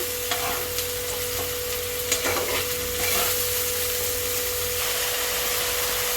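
Ginger garlic paste with red chili sizzles steadily in a hot pan, a continuous loud frying hiss with a few light scrapes of stirring. It runs on without pause and there is no talking.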